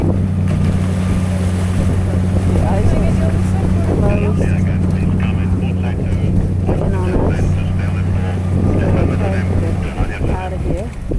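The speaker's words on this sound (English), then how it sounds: "we're the first Zodiac that tries to push our way through the thick ice" A Zodiac inflatable boat's outboard engine drones steadily as it shoves through thick Antarctic sea ice, with loud wind buffeting the microphone, water sloshing and faint voices underneath until the engine eases near the end.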